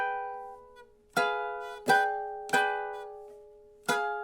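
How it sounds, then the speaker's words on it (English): A ukulele playing a song is strummed in four separate chords, each with a sharp attack that rings out. The strings have some buzz in them, and the playing is close and clear with no talking. "You hear I'm getting some buzzes in there"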